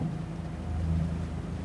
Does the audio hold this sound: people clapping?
no